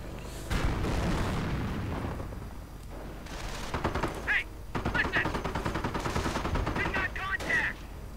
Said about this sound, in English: Panzer IVs firing away high explosive round after high explosive round